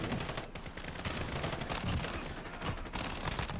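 Rapid automatic gunfire from a CR-56 AMAX rifle in Modern Warfare, dense continuous bursts of shots filling the clip with no pauses and no talk.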